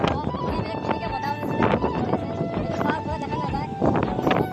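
Wind gusts across a hillside at Haflong in Dima Hasao, buffeting the microphone in uneven rushing bursts throughout.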